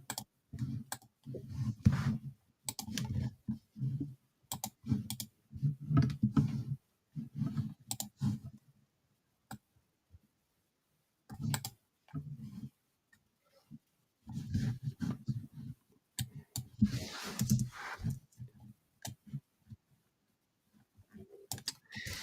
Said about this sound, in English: I'm like doing a lot of clicking on my mouse.